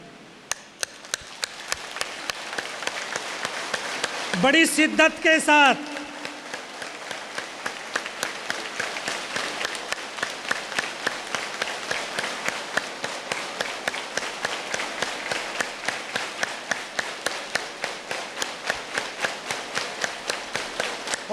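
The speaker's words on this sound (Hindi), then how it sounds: "2 मिनट तक तालियां जरा बजाइए" An audience at a talk by a Kargil war veteran claps hands in a long sustained rhythm, steady sharp claps repeating for the whole stretch, with a short loud vocal burst early on.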